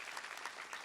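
Dense, steady audience applause fills a graduation ceremony, sounding even and crowded, heard as a short burst.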